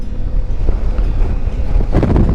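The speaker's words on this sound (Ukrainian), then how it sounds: "тут вітер дуже сильний" Strong mountain wind buffets the microphone with heavy low rumbling gusts on Mount Rokyta in the Carpathians, growing rougher near the end; no one speaks.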